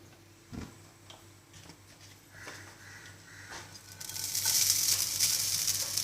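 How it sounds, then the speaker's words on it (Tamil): Grated coconut roasting in a pan for sweet somas filling, a soft sizzle and light ticking of stirring that swells into a louder, steady frying hiss in the final seconds, with no talking. "தேங்காயை வந்து நல்லா வறுத்துன்ட்டு இதோட மிக்ஸ் பண்ண போகிறேன்."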